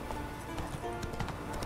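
Hooves of a horse gallop in The Witcher 3: Wild Hunt, a quick run of rhythmic thuds and clops, close and moderately loud, with no talking over it.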